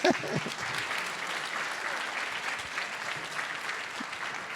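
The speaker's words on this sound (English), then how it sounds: "So that was the example of the sarcastic clap" High school band members at a spring concert giving a deliberately sarcastic round of clapping, a steady dense patter of many hands held at an even level throughout.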